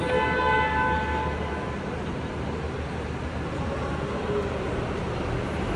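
A Disneyland tram rolls away from its stop with a steady loud rumble and wheel noise. A faint horn-like tone fades out early and the constant vehicle drone continues with no voices.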